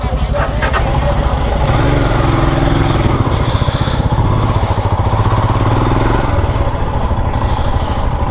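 A motorcycle engine runs loud and steady close by for the whole stretch, with speech over it and no clear stall at the end.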